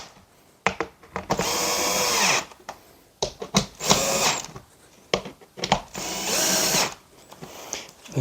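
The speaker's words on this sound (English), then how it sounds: "then you're going to cinch those bolts down" Power drill driving bolts on a Vecelo bed frame during assembly, in three loud sustained whirring bursts separated by short clanks and pauses, close by, with no talk.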